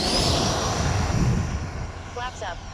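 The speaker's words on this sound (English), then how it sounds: "Letting the plane gently come down." A radio-controlled electric ducted-fan jet plane comes in to land, its whining fan thrust steady and fairly loud then easing off, with a brief rising whistle near the end.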